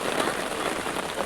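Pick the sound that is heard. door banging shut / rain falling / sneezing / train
rain falling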